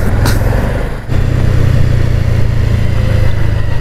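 A Dodge car from Bahrain with its engine running loud and close, a steady low rumble that dips briefly and then holds at a strong revving drone.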